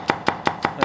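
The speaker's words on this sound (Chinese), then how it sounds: "葱给它切成小末" Kitchen knife chopping scallions finely on a cutting board for spicy stir-fried chicken hearts, five crisp evenly spaced chops in quick succession, close and clear with no voices.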